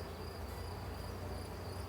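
A steady honeybee drone hums continuously throughout, dense and close at a mountain apiary, with no voices present.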